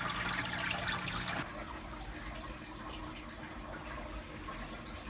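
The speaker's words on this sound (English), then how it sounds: "Just take a little bit of water." Water being scooped from a fish tank: a loud, splashing rush for the first second and a half, then a quieter, steady trickle and slosh that continues to the end.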